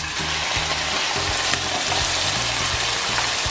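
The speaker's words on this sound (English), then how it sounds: "So our pan is hot, so I'm just going to drop in our liver." Chicken liver hits a hot oiled pan and fries, a loud close crackling sizzle that holds steady for several seconds with small pops and scraping bursts, no voices.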